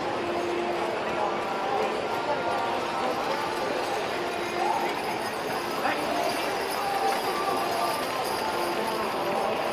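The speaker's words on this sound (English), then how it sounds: "Well, please walk the horses all along." Horses being walked in an arena at the National Western Stock Show, hooves clip-clopping in a loose, uneven rhythm beneath an announcer's voice and crowd ambience.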